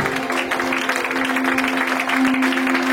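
A church congregation applauds and cheers the Lord at the end of a sermon, a loud, dense, steady wash of clapping that fills the room throughout.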